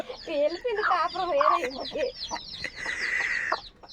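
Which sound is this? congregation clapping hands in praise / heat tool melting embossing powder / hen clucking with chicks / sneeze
hen clucking with chicks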